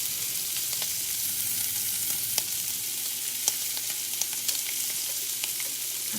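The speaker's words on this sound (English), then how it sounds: "Oh, so we are cooking shrimp tacos" Shrimp for tacos sizzle and fry steadily in a pan, a close, constant hiss broken by small sharp pops and crackles, with no voices over it.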